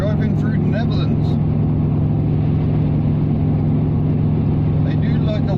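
Subaru Impreza cruising on a motorway in the Netherlands, a steady engine drone and road rumble filling the cabin with a constant low hum, with a person talking over it.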